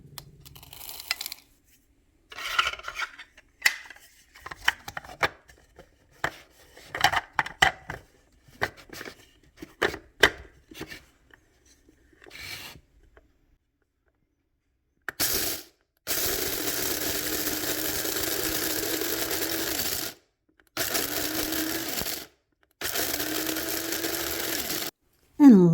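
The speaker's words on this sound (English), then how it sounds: "I just put a handful in our coffee grinder because I use that for coffee, herbs, and apparently corn." A coffee grinder grinds a handful of dried corn into cornmeal in several loud, steady whirring bursts separated by brief pauses, following a stretch of quieter clicks and handling noises.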